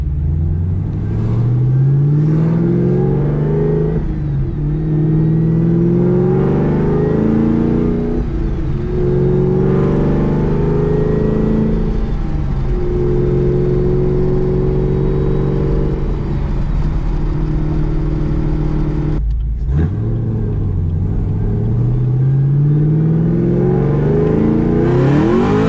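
A 780 hp 2017 Camaro ZL1, once damaged by fire, being driven, its engine loud and close as it revs up through repeated rising pulls and then settles, with a brief cutoff near the end.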